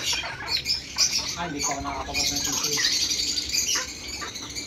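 Several lovebirds squawk and chirp close by, in irregular overlapping calls, with scattered background noise.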